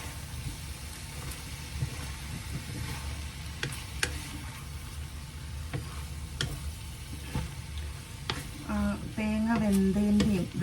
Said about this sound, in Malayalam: ഇതിൻ്റെ സൈഡിൽ കൂടി ഇങ്ങനെ തലതലാന്ന് തിളച്ച് വരുന്നുണ്ട്